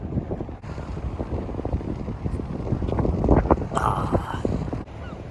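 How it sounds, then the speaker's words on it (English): Strong wind buffets the microphone on a seaside promenade in Penzance where flags flap wildly, a continuous rough rumble with gusty swells and a brief sharper flutter near the end, no talking. "Yeah, those flags are blowing pretty wildly."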